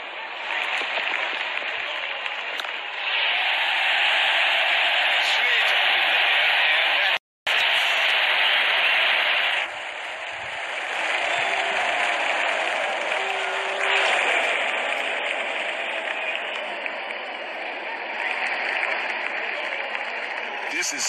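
A cricket crowd roars and cheers during an Australia versus West Indies match, a loud sustained wash of noise with a brief cut midway, under excited commentary.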